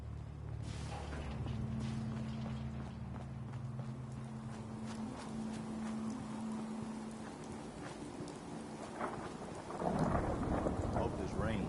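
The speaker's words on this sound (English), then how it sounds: "Hope this rain lets up soon." Steady rain and rolling thunder in the wasteland of the video game Fallout 4, a continuous wash of downpour with low rumbles and a sustained hum, swelling louder and rougher near the end.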